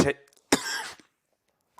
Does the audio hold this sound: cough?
yes